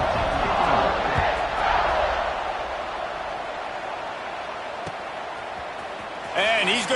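Roaring stadium crowd at a college football game, Oregon versus Ole Miss, in a video game, a dense continuous wash of cheering that swells again near the end, with commentary voices talking over it.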